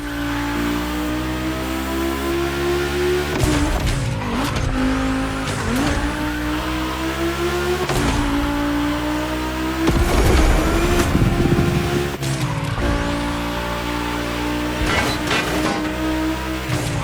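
Volkswagen race cars on track in the racing game The Crew Motorfest, with engines revving hard in repeated rising pitch sweeps, gear changes and bursts of tire squeal, loud and close throughout with no talk.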